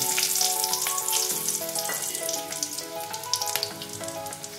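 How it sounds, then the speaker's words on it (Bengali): Whole green cardamom pods fry in hot oil for a Sindhi chicken curry, giving a steady bright sizzle and crackle throughout, with soft tonal music running underneath. "এই যে গোটা এটা ছোট এলাচ আমি দিয়ে দিলাম"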